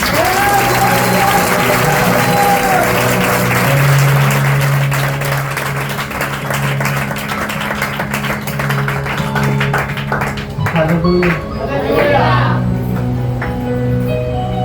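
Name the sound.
congregation clapping for God in church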